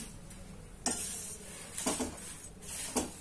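Flattened rice roasting in a pan for chivda, a soft low sizzle with a few sharp scrapes and clinks of a spoon against the pan, close and fairly quiet, with no talk.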